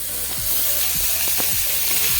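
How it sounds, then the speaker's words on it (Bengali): Prawns fry in hot oil in a pan with a steady, close sizzle and occasional soft stirring scrapes, no talking. "চিংড়ি মাছটা আমি ভাজা বসিয়ে দিয়েছি"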